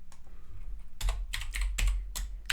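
Keyboard keys clatter in quick irregular bursts while Python code is typed during a programming lesson, close and clear with short pauses between runs of keystrokes and no talking.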